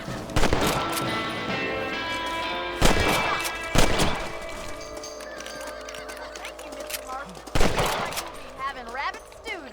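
Rifle shots ring out in Red Dead Redemption on PS5 while hunting rabbits: about four loud, sharp reports spaced a few seconds apart, each with a decaying tail, over game music and horse sounds.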